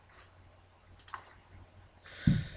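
Computer mouse clicks on a download button, a few light close clicks spaced apart over low steady room hum, with no talking.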